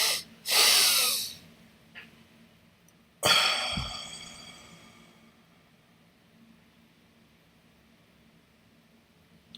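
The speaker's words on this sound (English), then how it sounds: "When you double breathe" Two forceful breaths pushed out through the nose or mouth, a sharp double exhale followed after a pause by another long breathy rush that fades out slowly into quiet, close to the microphone, no talking.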